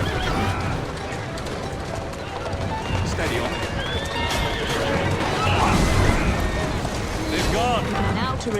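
Horse-drawn carriages in the Assassin's Creed Syndicate video game rumble along with horses neighing and hooves clattering, amid crashing noises and a busy mix of game sounds and voices.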